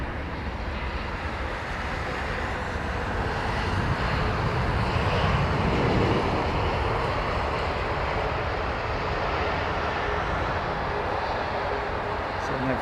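Bristol Britannia turboprop airliner at London Heathrow, a loud continuous engine roar that swells slightly mid-way and holds steady, with faint talk underneath.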